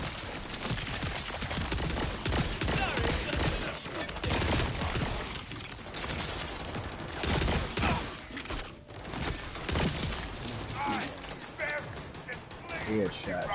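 Dense gunfire and fusillade bursts from the video game Borderlands 4 on Ultimate Vault Hunter Mode, loud and continuous over about thirteen seconds, mixed with game music and character voices talking throughout.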